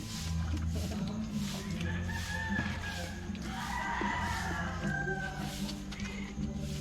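Chickens cluck steadily nearby while a rooster crows once or twice, a loud, continuous farmyard chorus.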